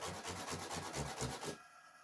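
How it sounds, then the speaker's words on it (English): Sandpaper rubbed back and forth across the end of a piece of wood, about six quick rasping strokes in a steady rhythm, close and clear, then stopping abruptly. "and just sand the end"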